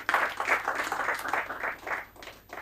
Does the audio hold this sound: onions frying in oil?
no